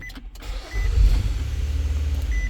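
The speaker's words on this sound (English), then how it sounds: "start the car" A 2015 Nissan Pathfinder engine cranks and fires, settling into a steady, close, fairly loud idle rumble with no talk over it.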